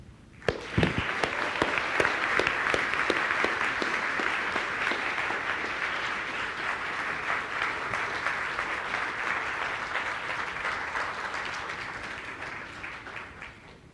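An audience breaks into applause to welcome a speaker, starting with a few sharp claps, then swelling into steady, dense clapping that holds for many seconds before tapering off.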